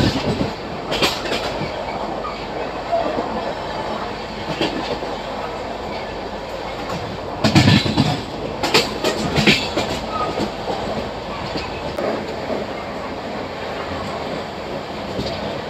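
Inside a carriage of the 12808 Samta Express on the Rayagada to Visakhapatnam line, wheels clatter in a steady rhythmic clickety-clack with loud rattling bursts from the car, continuous throughout.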